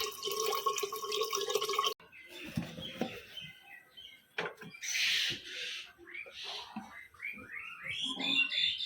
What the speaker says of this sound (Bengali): এখন হচ্ছে হাড়ির মধ্যে জল ভরে নিচ্ছি তারপর ভাতটা বসিয়ে দেবো